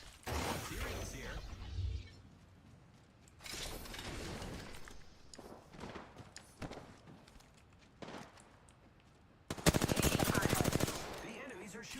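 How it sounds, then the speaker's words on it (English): Enemy gunfire in a video game arena match comes in loud rapid bursts, an early volley, another mid-clip, and an especially intense burst near the end, with quieter shots and game noise between. "The enemies are shooting at me."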